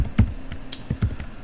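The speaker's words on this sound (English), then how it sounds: "if I just toggle caps lock in" The caps lock key pressed on a computer keyboard during a live coding session: a few close, sharp key taps in an irregular quick sequence, with no speech.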